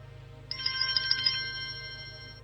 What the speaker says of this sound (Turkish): Bunlar da bildirim tonlarımız.